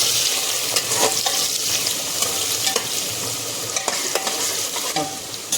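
Onions sizzle and crackle steadily in a hot pan, with occasional scraping as they are stirred.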